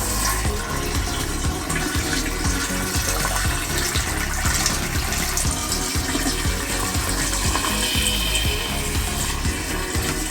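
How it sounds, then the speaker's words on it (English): Water from a shower nozzle pours steadily into an RV toilet tank, a continuous rushing, splashing fill close by that runs unbroken throughout with no talking. "we actually take the shower nozzle and fill our tank that way so that we can get an extra"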